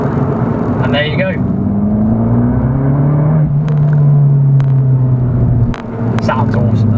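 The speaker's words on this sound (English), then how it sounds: "Sounds awesome as well, with that acropovic exhaust" Abarth 695c Rivale with an Akrapovic exhaust, a deep steady engine drone heard from inside the car, rising slightly in pitch midway and dipping near the end, with a person talking over it.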